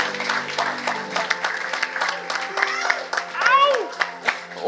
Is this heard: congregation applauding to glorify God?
yes